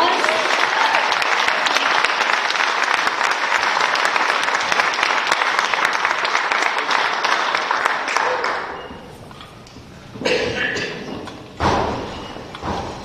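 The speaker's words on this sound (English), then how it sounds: "Let's give her a round of applause." An event audience claps and cheers for a speaker brought on stage, loud dense applause for about eight seconds that thins into scattered claps and fades.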